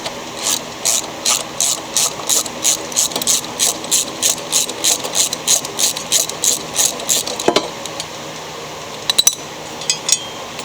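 A ratchet wrench loosens the 9/16 blade bolt on a Craftsman lawn mower with a Honda engine: a crisp, close series of about seventeen rhythmic clicking bursts, followed by a few loose metallic clinks.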